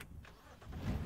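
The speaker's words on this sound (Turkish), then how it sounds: "Araban motor çalışıyor, gitmiyor" A car engine idling and revving in the BeamNG.drive driving game, low and fairly quiet, rising slightly toward the end with no voices.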